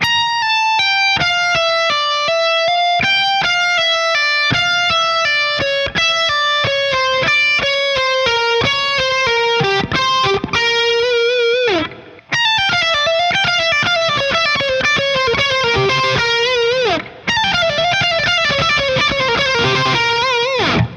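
A distorted electric guitar plays a hard rock lick, a rapid run of bright sustained notes and bends with a couple of brief pauses, loud and alone.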